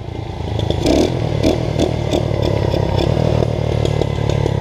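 A four-stroke moped engine runs loud and near, its rough drone broken by rapid crackling pops and backfires throughout.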